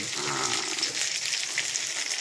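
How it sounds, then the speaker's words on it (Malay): Steady, gentle sizzling of seluang fish frying in a wok on low heat, a soft crackling hiss that holds at an even level throughout. "Sudah kita simpan dalam kuali, guna api perlahan, tidak kuat, api perlahan."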